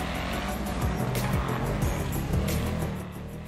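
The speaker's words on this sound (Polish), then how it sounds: "ale dźwięk kozacki tego samochodu" A car engine in GTA Online revs loudly with repeated gear-change dips and a tyre squeal, a close, sustained roar that fades slightly at the end.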